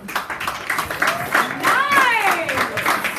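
A party crowd claps and cheers after a weight-loss challenge, with whoops and shouting voices rising over steady clapping for a few seconds.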